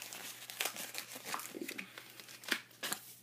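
A foil trading card pack is cut open: a close series of sharp crinkles and short tearing rustles, irregular and fairly quiet, with no talking.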